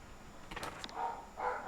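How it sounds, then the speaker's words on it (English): A dog barks nearby in a home, giving a few short, quick yips and barks in a brief burst, moderately loud with no speech over them. "Boy, my dog is just going crazy."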